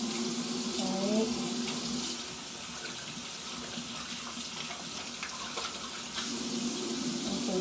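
Water runs steadily from a tap into a sink during handwashing with soap, a close, continuous splashing hiss lasting the whole stretch with faint shifts as hands move through the stream.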